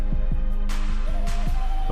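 A warm Honda Civic Type R EP3 engine idles steadily, a continuous low throb with a faint repeating pulse, close by and alone.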